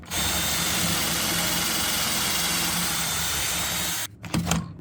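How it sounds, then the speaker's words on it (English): A regular power drill on its strongest setting drives into a 1952 wooden dresser with a loud, steady motor whine for about four seconds. It then cuts off, leaving a few brief handling knocks. "I'm using the regular drill, but I put the bypass of the strength, which is this one."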